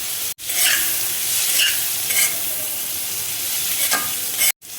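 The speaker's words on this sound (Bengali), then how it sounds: "এবার দেখো আমি পেঁয়াজ কুচি দিয়ে দিচ্ছি" Chopped onion sizzles steadily in melted butter in a wok, with a few scraping stirs cutting through the continuous frying hiss, close and fairly loud.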